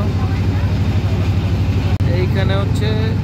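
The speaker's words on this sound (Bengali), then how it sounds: "ট্রলারের ভটভট শব্দ।" A trawler boat engine chugs at Foy's Lake, a loud, close, steady low putt-putt throbbing throughout, briefly cut off once, while voices talk over it.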